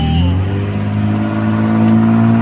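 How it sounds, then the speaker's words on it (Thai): A car climbs a mountain stretch of Sukhumvit Road near Chanthaburi, its engine steadily revving and accelerating close by, with a continuous loud drone throughout and a faint voice in the background. "คนขับก็จะพาเราซิ่งเนี่ย"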